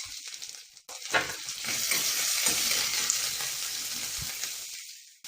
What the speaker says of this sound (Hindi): यहाँ पर मैं प्याज को थोड़ा सा सॉफ्ट कुक कर ले रही हूँ